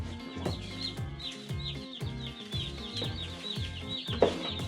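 Young chicks around a feeder give faint, close, rapid peeping and soft clucking, a dense chatter of many small calls that repeats steadily throughout.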